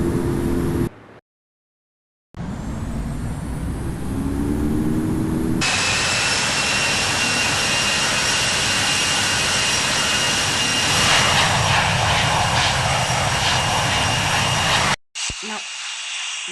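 Loud, steady roar of a jet airliner's engines in the Infinite Flight simulator game during a landing approach, with broadband hiss and a high whine, briefly cutting out twice.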